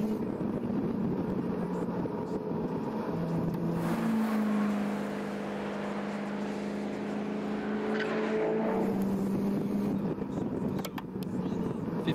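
Race cars roar around the oval at Langley Speedway during a Wacky Wednesday event, a continuous loud engine drone with rising and falling pitch as the cars pass close by, a commentator talking over it throughout.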